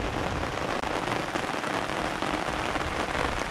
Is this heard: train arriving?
no